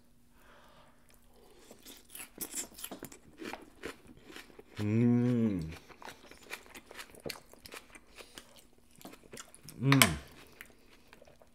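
Someone bites into a large portion of loco moco, a Hawaiian rice dish, followed by repeated close, crisp crunching and chewing sounds, with two drawn-out appreciative hums in between.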